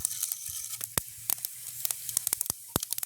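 Mustard seeds and fennel seeds crackle and sizzle in hot oil, with sharp scattered pops over a soft frying hiss, close and fairly quiet.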